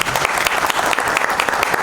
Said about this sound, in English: Can you please give a big round of applause for them, please?